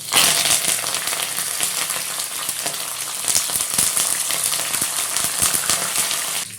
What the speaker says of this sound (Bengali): এবার এগুলোকে আমি ভেজে নেবো আমি দিচ্ছি একদম ফ্রেশ কারি পাতা